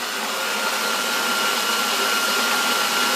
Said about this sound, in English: Here we are milling the grain.